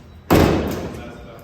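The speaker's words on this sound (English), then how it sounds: "Shut that door." Door of a mud truck under construction slammed shut, a single loud, close thump with a short metallic ring that decays over about a second.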